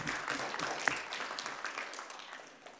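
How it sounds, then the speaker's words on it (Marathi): An audience at a Marathi birth-anniversary function for Mata Bhimabai Ramji Ambedkar claps for two girls who have just sung, a moderate, somewhat distant round of applause that gradually fades away. "त्यांच्याबद्दल एकदा आपण टाळ्या वाजवून त्यांचं स्वागत करूया"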